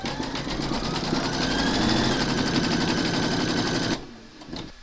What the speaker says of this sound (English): Pop your hoop into your machine and stitch round number 1